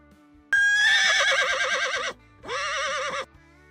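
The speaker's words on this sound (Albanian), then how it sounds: "Kali." A horse neighs twice up close: a long, quavering whinny followed after a short gap by a shorter second one, both bright and loud against a quiet background.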